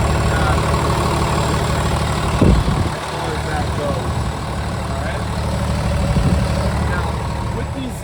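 A 2014 Hino 268A 26-foot box truck with an automatic Allison transmission idles steadily nearby, its low, even engine drone continuous throughout with a brief louder knock partway through.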